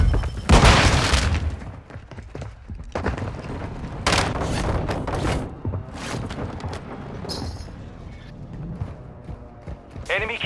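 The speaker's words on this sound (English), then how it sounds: "Enemy precision airstrike." Repeated heavy explosions from a precision airstrike in Call of Duty rumble close and loud across the clip, with deep booms and crackling debris under game noise and radio chatter.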